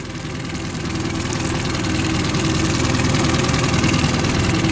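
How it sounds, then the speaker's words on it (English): A boat's outboard motor runs steadily while trolling for coho and crab on Puget Sound, a continuous mid-low engine drone that swells slightly in loudness and holds close and even throughout with no talk. "Keeping the motor going to keep the pressure on."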